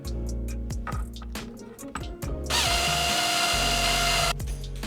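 A power drill drives a screw into a rear spat on a 2015+ Subaru WRX/STI, with several short whirring bursts and then a longer continuous run, loud and close, with no talking.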